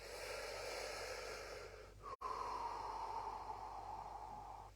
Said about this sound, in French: Je peux aussi respirer.